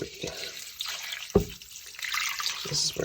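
Water runs from a kitchen tap into a pot for ramen noodles, a close, soft trickling and splashing with a brief clunk partway through.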